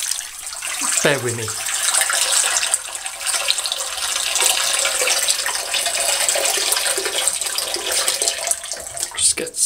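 Tap water runs into a bathroom sink as a steady, loud, hissing rush lasting the whole stretch, with a person speaking briefly near the start.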